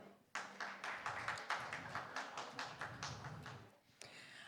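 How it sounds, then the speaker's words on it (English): Brief applause from a conference panel audience, a burst of claps starting abruptly, moderately near, fading after a few seconds with a final thump. "Can we please have a round of applause for her?"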